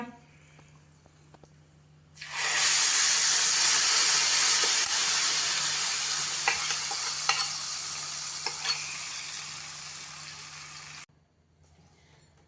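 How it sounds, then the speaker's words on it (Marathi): Ghee tadka tempering poured onto hot fenugreek (methi) kadhi gives a loud, steady sizzle with a rush of steam that lasts about nine seconds, then cuts off abruptly into quiet. "तडका आपण यावर घालूया"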